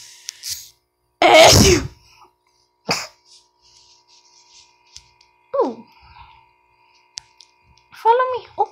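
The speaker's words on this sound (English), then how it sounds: "I gotta sneeze." A sneeze bursts out loud and close, with a throat-clearing sound and scattered clicks around it, plus short bits of other voices and vocal noises in a quiet room.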